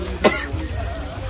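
One short, sharp cough from close by, set against a low background hum.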